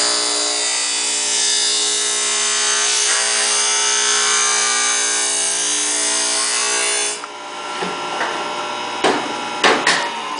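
A planer blade is fed through a blade sharpener, making a steady, loud, high abrasive whine for several seconds before stopping, then a few clicks and knocks as it is handled.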